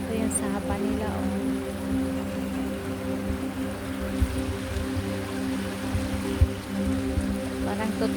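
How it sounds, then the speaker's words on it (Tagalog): A small forest stream flows steadily just above a little waterfall, a continuous broadband wash of running water with occasional splashy spikes, while a person talks intermittently over it. "Ito yung sapa nila."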